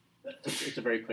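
A single quick sneeze bursts out in a classroom lecture, close and sharp, with a voice speaking around it.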